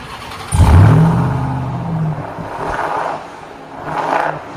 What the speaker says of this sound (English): How does that 777 horsepower V8 sound?